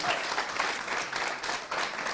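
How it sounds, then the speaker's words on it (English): Sustained applause from a crowd at a startup cohort demo day, steady dense clapping filling the whole stretch at a fairly even level. "A big, big, big round of applause again."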